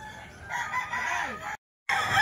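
A young rooster, a straight-combed sweater-line bullstag about ten months old, lets out one loud, close crow lasting about a second. A short silence follows, then farmyard noise picks up again.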